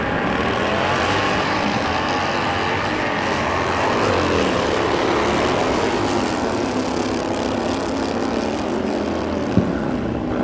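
A 2003 Harley-Davidson Sportster drag racing down the quarter mile produces a loud, continuous engine drone that holds steady and close for the whole stretch, with no voices over it.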